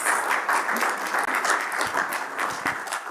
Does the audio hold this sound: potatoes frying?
no